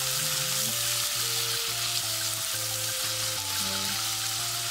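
Garlic, onion and tomato sauté in a hot pan for canned mackerel sinigang, a loud, continuous sizzle with scraping stirs, under steady background music and no talking.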